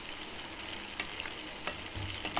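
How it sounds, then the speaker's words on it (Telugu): Tomato pickle fries in oil in a pan, a soft continuous sizzle with a few light scrapes and clinks as it is stirred, faint and close with no speech. "వేగేంత వరకు కలబెట్టుకుంటూ మాడిపోకుండా చూసుకోవాలి"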